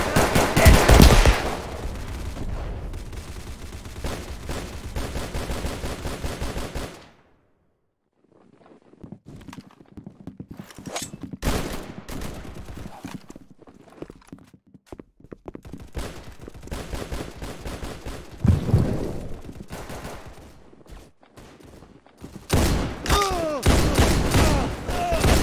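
Gunfire crackles in the video game Unit: Classified, with loud rapid automatic bursts separated by a quiet lull and stretches of footsteps, the shooting returning close and heavy at the end.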